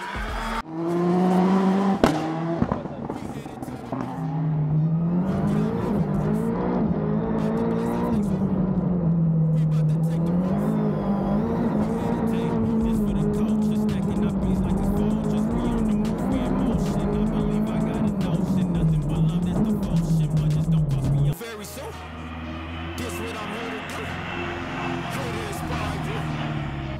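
A rallycross car driving at speed, heard from inside as a loud, droning engine that holds and wavers in pitch over bumps and shifts, then cuts to quieter cabin rumble near the end, with voices speaking over it.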